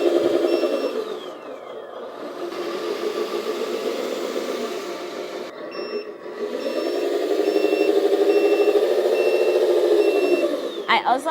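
A Lesu 8x8 hydraulic roll-off RC truck's sound module plays a steady simulated diesel engine rumble that swells and eases as the truck drives, with intermittent reversing beeps over it, loud and close throughout.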